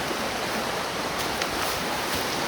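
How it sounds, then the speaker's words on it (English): A river flowing right beside a trail campsite with a fire pit on a cold, rainy Appalachian Trail hike, giving a steady, close broadband rush of water with no talk. "And then the river is right here."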